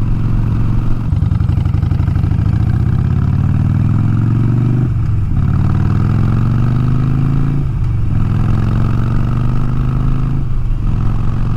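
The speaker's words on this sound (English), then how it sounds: "I'm on my son's 2008 Sportster Nightster 1200." A 2008 Harley-Davidson Sportster Nightster 1200 motorcycle engine runs loud and close, a deep throbbing rumble that rises in pitch as it accelerates, with short dips where gears shift, about three times.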